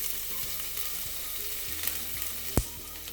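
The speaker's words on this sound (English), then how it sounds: "Saute it for about 30-45 seconds. It's changing the color now." Chopped garlic sautes in a pan for pasta, a dense steady sizzle filling the background with a few faint utensil scrapes and one brief sharp knock near the end, close and fairly quiet, no voices.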